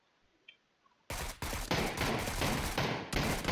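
Sniper rifle fire in the video game PUBG: after a quiet start, a string of loud, sharp shots rings out, each burst separated by short gaps and echoing briefly.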